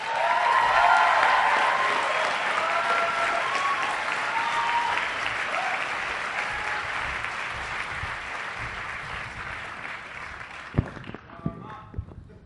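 A large audience at a university graduation commencement ceremony applauds, a loud, sustained wash of clapping that holds steady and slowly thins out, ending with a few scattered claps and thumps.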